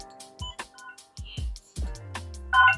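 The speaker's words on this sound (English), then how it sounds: "So that first beep is that countdown" A lightsaber hilt from ArtSabers, a Vernestra model, sounds a short run of electronic countdown beeps, thin bright tones spaced irregularly, close and fairly quiet, ending in a brief louder chirp.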